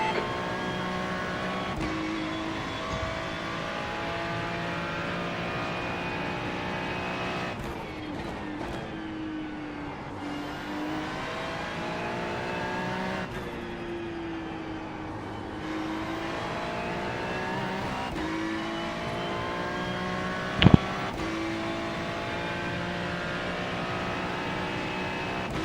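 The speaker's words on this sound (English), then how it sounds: "There's a faster class car approaching." Race cars in a GTP/GT3 multiclass racing game at the Nürburgring Grand Prix circuit, a continuous loud engine drone with shifting pitch as cars approach and pass, a few gear-change breaks and one sharp brief bang near the end.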